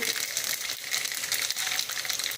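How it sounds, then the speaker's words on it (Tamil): Mustard seeds, urad dal and chana dal frying in hot oil for temple-style puliyodharai, giving a loud, steady, close crackling sizzle throughout with no voices. "எண்ணெய் சூடாக இருக்குது கடுகு உளுத்தம்பருப்பு கடலைப்பருப்பு"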